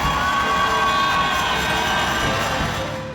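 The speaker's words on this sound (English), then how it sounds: "cheering for our knight" A crowd cheers and shouts at a medieval jousting and sword-fighting show, the loud, steady roar of many voices with children's yells mixed in, holding for several seconds before easing off slightly at the end.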